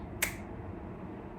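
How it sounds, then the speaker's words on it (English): A single crisp finger snap rings out once near the start, sharp and close, followed by quiet background hiss. "Snap your fingers"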